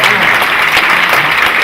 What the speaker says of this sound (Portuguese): dê a melhor salva de palmas para Jesus, porque é para Ele essas salvas de palmas